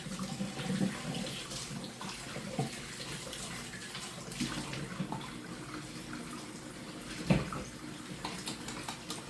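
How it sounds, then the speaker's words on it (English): Steady rushing of water pouring from a kitchen tap, a continuous hiss with a few faint clinks and splashes, fairly close. "I don't know if you can hear me over the water though."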